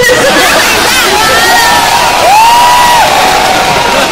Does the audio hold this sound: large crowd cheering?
yes